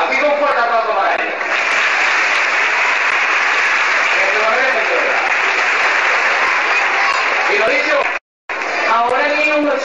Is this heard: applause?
yes